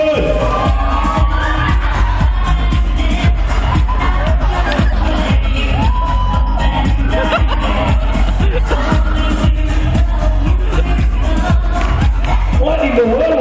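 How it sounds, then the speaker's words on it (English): An audience at a Nuffnang fifth-anniversary party claps and cheers for a contestant. Steady, loud applause mixes with crowd babble and whoops over thumping background music. "Come on, clap for Yeong Boon!"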